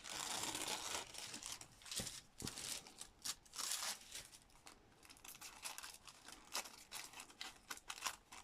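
Paper being torn by hand for a graphite and charcoal frottage, a series of quiet crinkling rips and crackles in irregular bursts, close and faint with no talk.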